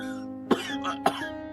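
A man coughs twice in sharp, close bursts about half a second apart, with a faint breathy rasp between them over a quiet steady background hum.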